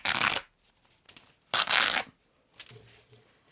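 Fabric is ripped by hand: three bursts of close, harsh tearing, each lasting about half a second, separated by brief quiet with faint handling noises.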